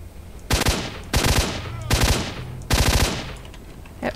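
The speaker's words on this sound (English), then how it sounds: "Now maybe we can shoot him." Automatic gunfire in S.T.A.L.K.E.R.: Shadow of Chernobyl comes in four loud, close rapid bursts, each with a ringing tail, separated by short pauses.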